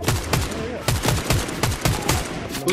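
Rapid gunfire in a first-person shooter game, a steady string of sharp close shots at a fast, slightly uneven rhythm, loud and alone.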